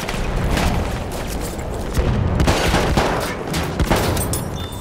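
Loud, dense gunfire in Battlefield 1 multiplayer on Fort de Vaux, rapid overlapping shots and booming impacts crackling continuously up close with no talk.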